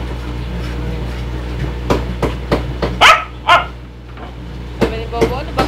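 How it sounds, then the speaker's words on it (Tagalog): A dog gives a string of short, sharp barks, several spaced one after another over a steady background hum, with a louder double bark in the middle. "Sabi ni Bobo, ano ba ito aso?"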